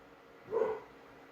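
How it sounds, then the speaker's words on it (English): A single short dog bark sounds at a moderate distance against a quiet background. "Oh, what are you barking at? He barking at nothing."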